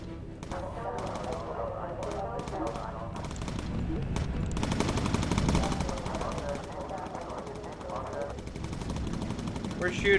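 Rapid machine-gun bursts from a bomber's turret guns in the WWII game Bomber Crew, rattling continuously under engine drone and game noise, loudest in the middle stretch, with voices talking over it.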